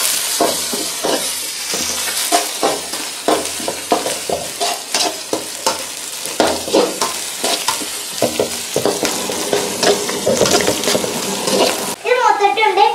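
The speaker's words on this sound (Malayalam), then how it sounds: "ഇനി ഇതിലേക്ക് കപ്പ ഇടാം. കപ്പ ഇട്ടിട്ട് ഇളക്കി കൊടുക്കാം." Tapioca (kappa) being stirred and fried in a pan, with rhythmic scraping and clattering strokes over a constant sizzle, loud and close, ending in a brief burst of bubbling.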